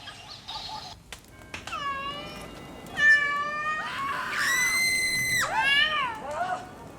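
A cat meows and yowls repeatedly, with drawn-out rising and falling cries that grow louder into a caterwauling wail, close and clear in a staged musical performance.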